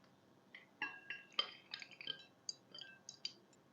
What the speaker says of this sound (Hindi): बर्फ़ शामिल करेंगे इसमें।